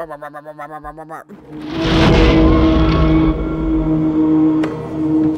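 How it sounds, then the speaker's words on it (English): An engine sputters and then roars loudly to life, its rough, sustained rumble continuing close by with a sharp click near the end. "Sounds like a car trying to start."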